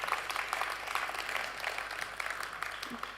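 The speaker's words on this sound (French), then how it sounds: "Vous pouvez l'applaudir très fort" A winter music festival audience applauds a singer with steady, moderately distant clapping that stays even throughout and is fairly quiet.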